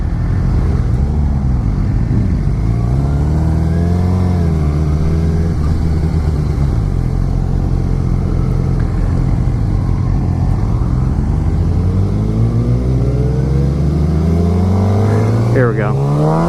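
A 2016 Suzuki GSX-R600 supersport motorcycle engine accelerates hard through the gears, loud and close with rising and falling pitch at each shift, and heavy wind roar underneath.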